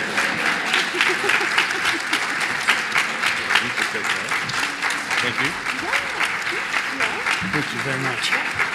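A large audience keeps clapping steadily at the 2025 Iowa Cancer Summit awards ceremony while honorees come up, with a presenter speaking briefly over the applause.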